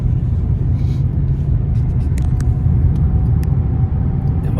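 A car rolls slowly past on the road at night, a close, heavy low rumble that holds steady throughout with faint higher clicks and no talk.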